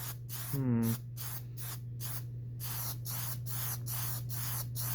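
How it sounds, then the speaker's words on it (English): Plasti Dip aerosol sprayed onto an aquarium background in a series of short, close hissing bursts over a steady low electrical hum, with a brief tonal sound near the start. "Now once you shake your can up good, you want to apply light coats."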